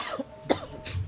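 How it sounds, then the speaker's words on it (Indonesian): A single short cough, close and fairly quiet, from a person teaching Quran recitation, with a faint second breathy burst after it. "Batuk."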